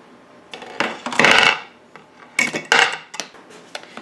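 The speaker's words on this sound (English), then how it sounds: "Take a spoon through it." Metal spoon scraping and clinking against the inside of a pot of potato and leek soup, several short scrapes in two bursts with brief pauses between, close and clear.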